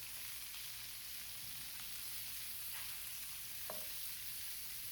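Salmon fillets frying in a pan, a steady quiet sizzle throughout with a few faint clicks and pops, no voices.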